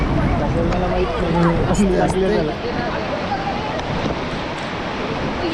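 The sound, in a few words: fast-flowing river water in Melghat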